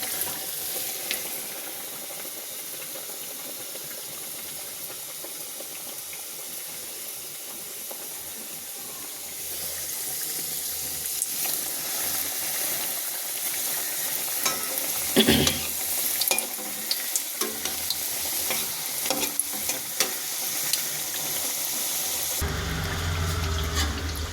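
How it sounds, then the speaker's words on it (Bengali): Stuffed luchi frying in hot oil, a steady bright sizzle and hiss that swells louder partway through, with faint stirring and bubbling and a brief disturbance near the end; no talking. "এবারে যাতে খুলে না যায় এটা এখানে তেলে ছেড়ে দিলাম।"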